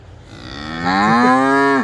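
A single cow on a farm where grain is ground into chop lets out a close, loud moo that rises and holds before cutting off.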